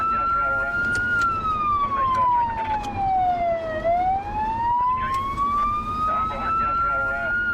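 A police car siren wails loud and continuous during a high-speed pursuit at over 110 km/h, its pitch sliding steadily down and back up over heavy engine and road roar.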